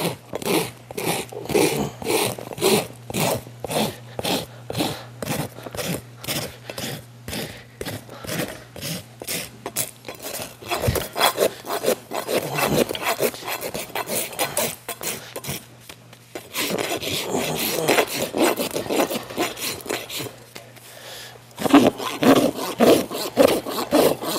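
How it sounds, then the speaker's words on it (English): A rasp files a horse's hoof to roll the toe during a barefoot trim, in rhythmic back-and-forth strokes, close and steady, alone without talk. "I wanna make sure that I don't get my rasp into that too much. But I'm gonna start the roll of my toe"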